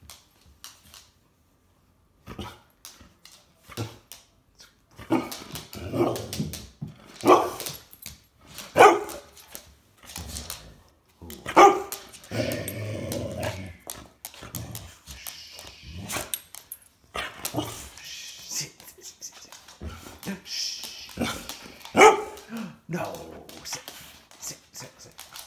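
A dog gives a series of short barks at irregular intervals across the clip, fairly close and moderately loud, with quieter gaps and some faint vocal sounds between bursts.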